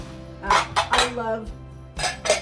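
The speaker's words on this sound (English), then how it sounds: "These are my Pioneer Woman baking dishes" Ceramic Pioneer Woman baking dishes clinking and knocking together as they are lifted from a kitchen cabinet, several close, sharp chinks in quick succession with a few quieter clatters between.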